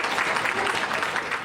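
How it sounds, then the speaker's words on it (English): A short burst of steady, dense applause from a crowd honouring the founders of a Montreal women's centre, loud and continuous without a break. "The founders of the centers need to be applauded."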